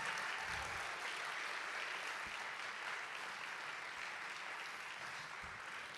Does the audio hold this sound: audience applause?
yes